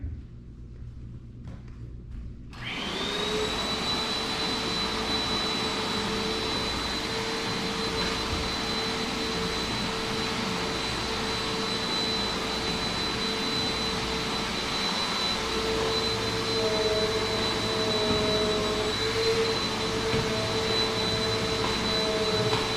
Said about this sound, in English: the hardest part is probably just vacuuming up these stairs